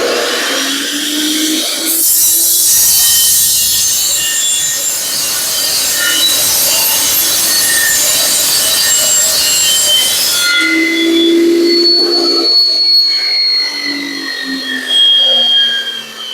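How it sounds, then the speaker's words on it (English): A loud power saw cuts through a metal steering part for a Ford F100 fitted with Crown Victoria steering. Long harsh grinding runs for several seconds up close, then it stops, followed by clanks and scraping. "The saw's loud, so y'all might want to cover your ears"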